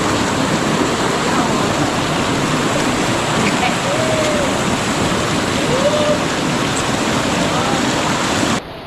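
Steady, loud rushing of spring-fed water on the Sta. Lucia River in Dolores, Quezon, a broad continuous wash that holds even for nearly nine seconds before dropping off abruptly at the end, with faint voices and chirps underneath.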